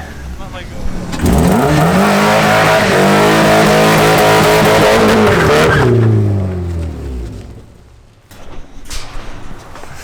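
A car with a turbocharged 1JZ engine spins donuts, a loud sustained high-revving engine roar with squealing tires that fades after several seconds, followed by scattered quieter sounds and a voice.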